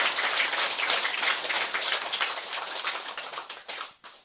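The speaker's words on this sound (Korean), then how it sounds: "박수 한번 더 주시기 바랍니다" An audience at a Saturday lecture in Busan breaks into dense, steady applause that holds evenly for about three seconds before thinning and trailing off, with no voices.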